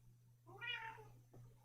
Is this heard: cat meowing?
yes